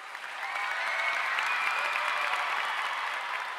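Audience applause at a celebrity tribute event celebrating Captain Vijayakanth's 70th birthday, a dense, even burst of clapping from a large hall crowd that swells in quickly and holds steady.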